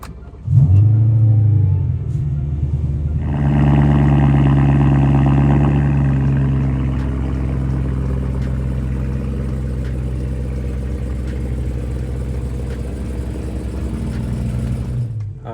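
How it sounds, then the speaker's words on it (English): BMW E90 M3 with a six-speed manual pulling away, its engine rumbling loud and close, rising in revs as it sets off, then settling into a steady drone as it drives on. "Alright, setting off in the E90 M3 6-speed manual."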